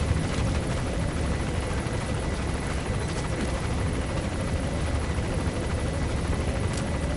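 A helicopter in Metal Gear Solid V hovers low near a helipad, its rotor and engine a dense, steady roar that fills the whole stretch without any pause.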